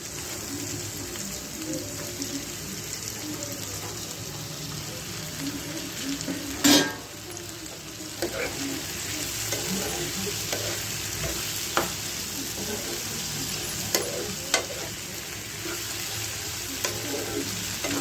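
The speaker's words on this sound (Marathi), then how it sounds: "थोडीशी कोळंबी 10 मिनिटं परतून घ्यायची" Prawns fry with onion and tomato in a pan, giving a steady crackling sizzle that runs throughout, punctuated by one loud scrape or clank and a few lighter taps from stirring.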